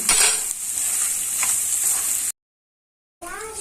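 Chopped onions sizzle and fry steadily in butter in a pan, a close, continuous crackling hiss that cuts out briefly near the end and then resumes.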